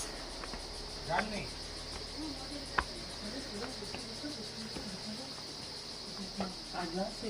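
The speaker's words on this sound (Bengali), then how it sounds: "কিরকম নির্ঝুম শুধু ঝিঝির ডাকে পরিপূর্ণ" A constant high-pitched drone of crickets chirping at Mawsmai cave, Meghalaya, fills the background while people talk quietly nearby, with an occasional knock.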